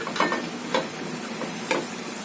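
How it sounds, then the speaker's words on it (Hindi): Eggs mixed with masala fry in hot oil in a pan with a continuous close sizzle, broken by a few soft scrapes of stirring and no talking. "ऑयल जब थोड़ा सा गर्म हो जाए तो अब डालेंगे ये अंडे जो हमने मसाला मिलाकर रखे थे।"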